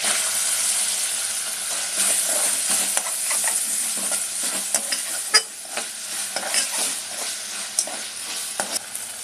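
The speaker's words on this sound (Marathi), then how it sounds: "कांदा आपल्याला फोडणीला द्यायचा आहे।" Sliced onion fries in oil for a Malvani prawn masala, a close, steady sizzle broken by repeated scraping strokes of a spoon stirring the pan, with no talk.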